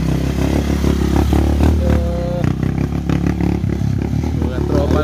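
A motorcycle rides along a muddy road, its engine buzzing and revving unevenly over rattles and scraping clatter, with voices talking over much of it.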